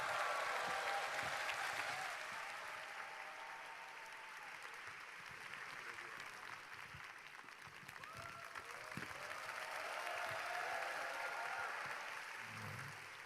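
A church congregation at a worship service applauds as the pastor comes to the stage, sustained clapping heard from a distance in a large reverberant hall, steady throughout with a low swell of crowd noise and faint voices.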